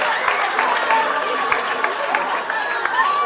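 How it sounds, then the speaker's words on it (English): An audience at a steel pan finals competition applauds a school steel band, with steady clapping and crowd chatter under it. "Give them a nice round of applause."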